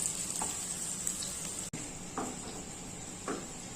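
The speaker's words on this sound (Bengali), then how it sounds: "এখন আলুটা এইভাবে করে ভেজে নেবো" Partly boiled potato pieces fry in a pan for a chicken curry, giving a soft, steady sizzle with a few faint stirring scrapes and light clinks.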